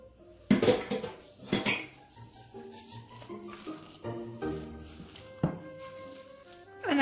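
A spoon stirs a gouda and feta cheese pie batter in a bowl, clinking and scraping against the sides in a steady rhythm, close and clear.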